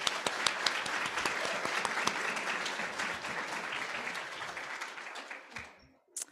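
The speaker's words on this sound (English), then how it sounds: "Let's give her one more round of applause." An audience claps in a warm, sustained round of applause that gradually fades out, with a few last claps at the end, at an education pinning ceremony.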